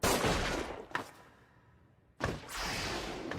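Gunfire in the anime movie Alice in the Country of Hearts comes as loud bursts of shots with whooshing blasts, a brief quieter gap, then another sustained volley.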